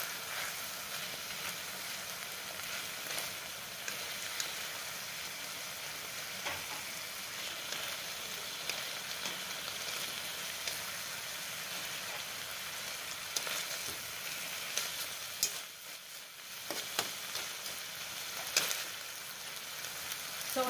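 Stuffed squid (rellenong pusit) fries in a pan with a faint, steady sizzle and occasional small crackles and pops that runs on without any talking.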